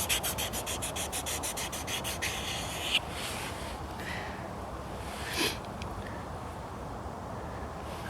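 Kitchen knife stroked repeatedly across a soft whetstone, a steady gritty rubbing with quick rhythmic strokes at first, then longer slower passes, close and moderately loud with no talking.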